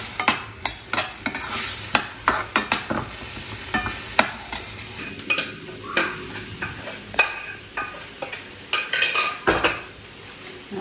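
Chilies are stirred and sautéed in a pan while a steady sizzle of frying runs underneath, and a spoon scrapes and clinks against the metal in quick irregular strokes, close and fairly loud.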